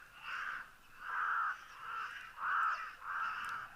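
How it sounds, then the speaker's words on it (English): Cape crows caw in a slow series of four or five drawn-out, harsh calls, evenly spaced and fairly clear against a quiet outdoor background. "really a rather imposing sound of those Cape crows"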